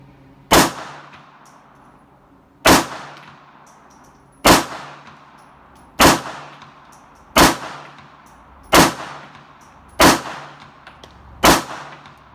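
A Beretta Model 85 Cheetah .380 pistol fires its first magazine at a target, eight sharp, loud shots spaced about one and a half to two seconds apart, each a crisp crack with a short ringing decay.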